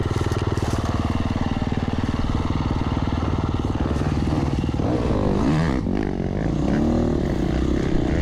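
A dirt bike engine at an enduro race runs loud and steady at close range, droning continuously as the bike is wrestled free of vines tangled in thick bush on a hard, exhausting test section.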